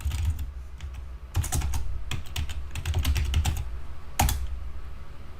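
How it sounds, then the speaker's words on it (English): Fingers typing an email on a computer keyboard, with irregular clusters of quick, crisp key clicks, close and fairly quiet, with brief pauses between bursts. "Type in your SFUSD email,"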